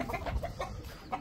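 Several desi chickens cluck close by in quick, overlapping bursts, a busy, continuous flurry of short calls.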